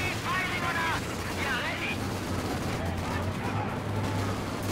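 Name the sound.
machine gun fire in Company of Heroes 2 video game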